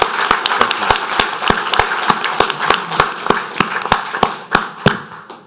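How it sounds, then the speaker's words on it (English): An audience at a parish council meeting claps in steady applause, many sharp hand claps overlapping densely at an even pace for several seconds. "we need to give Mr. Wayner a big round of applause"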